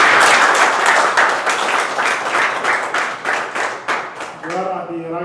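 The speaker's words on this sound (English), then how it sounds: "big round of applause." People at a Toastmasters meeting give a lively round of applause, close and fairly loud claps that thin out, and then a person starts speaking as the clapping ends.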